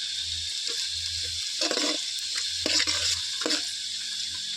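Chillies fry in a pan with a constant bright sizzle, close and fairly loud, broken by a few clinks and scrapes as the spoon stirs, with no talking.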